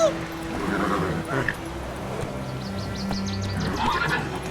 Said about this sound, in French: C'est un cheval magique, comme dans Skyrim